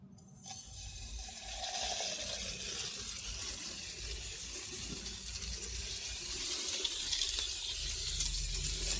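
A gentle stream of water pours steadily onto seedlings in a greenhouse during winter sowing, a soft continuous hiss and splash that swells slightly toward the end, with no talking.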